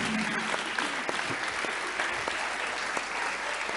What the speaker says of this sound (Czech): dámy a pánové, zatleskejte Matoušovi